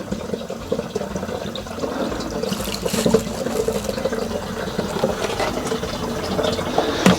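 Liquid poured by the gallon into an RV water heater, a continuous gurgling, splashing pour heard up close and fairly loud with no break.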